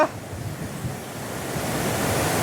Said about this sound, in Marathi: तुम्हाला पाण्याचा आवाज येत असन एकदम जबरदस्त असा आवाज येत आहे